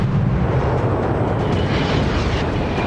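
Warship guns fire in World of Warships, a continuous booming roar of naval artillery with rumbling low end and sustained blast noise, loud and dense, with no voices heard.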